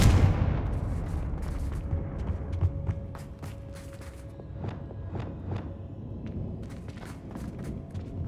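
A Confringo explosion spell cast in Hogwarts Legacy: a heavy low boom at the start that decays into rumbling, followed by scattered sharp crackles and impacts over a lingering tone.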